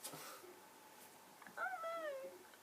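Cat meowing while being stroked, a single drawn-out meow near the end after a quiet stretch, close and fairly soft.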